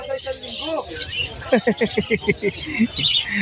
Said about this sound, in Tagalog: sobrang daming zebra pins ni Boss John ngayon, no